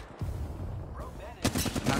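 Video game gunfire in Apex Legends, a short, close volley of rapid shots cracking out in a quick burst near the end, with a faint voice beneath.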